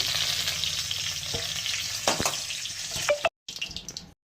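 Dry red chili and black cumin seeds fry in hot oil for tempering a purple cauliflower and pea curry, a close, loud crackling sizzle with sharp pops and a spoon scrape, cutting off briefly before resuming.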